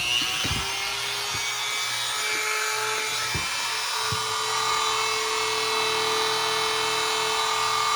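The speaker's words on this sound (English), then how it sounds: "So now I'm gonna take my grinder and take that piece off." An angle grinder cuts through a 17-round P320 pistol magazine, giving a loud, sustained high-pitched whine with a few sharp knocks early on and no talking.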